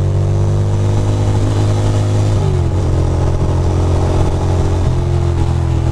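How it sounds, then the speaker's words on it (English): A loud, steady engine drone from a motorcycle in Brooklyn traffic near the BQE, with slight shifts in pitch as it rides along and no voices. "that guy over there is on a motorcycle as well"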